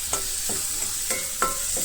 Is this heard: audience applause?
no